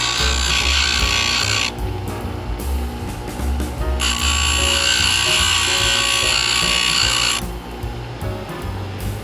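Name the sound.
power grinder grinding down a metal rim cylinder part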